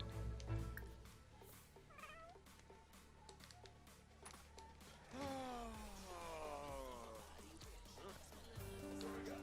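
A cat meows several times in The Sims 4, close and fairly faint, with drawn-out cries over quiet game music.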